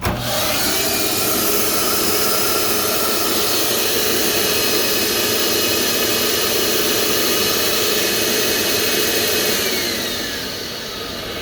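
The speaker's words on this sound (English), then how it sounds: "Eventually that vacuum will shut off" A Mayku Formbox vacuum former pump roars continuously with a high whine on top, holding level for about ten seconds before winding down.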